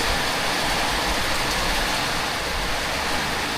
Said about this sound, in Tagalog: Grabe ang ulan mga amigo, ang lakas.